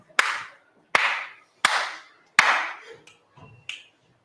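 Four sharp, loud hand claps ring out about a second apart in a quiet room, followed by a few softer, quicker finger snaps, used for counting numbers in a numeracy training session.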